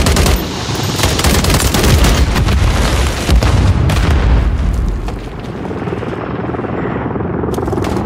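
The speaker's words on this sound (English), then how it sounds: "Hostile overwatch helo in the area." An enemy overwatch helicopter in Call of Duty Warzone roars loudly and steadily, mixed with heavy gunfire bursts and explosions in a chaotic battle.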